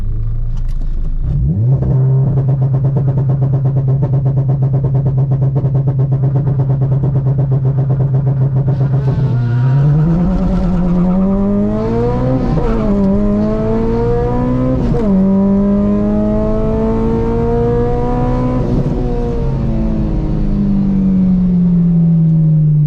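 Bolt-on modified Acura RSX revving hard and accelerating with wheel hop, a loud close engine note holding steady before climbing in rising pitch sweeps through several gear pulls, continuous and unbroken with no talk.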